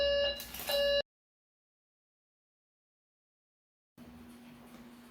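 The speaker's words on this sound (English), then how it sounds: "The fire alarm went off because somebody was cooking in my dorm kitchen" A dorm fire alarm sounds in a loud harsh electronic blast with two pulses over about a second, then cuts to silence before faint room noise returns.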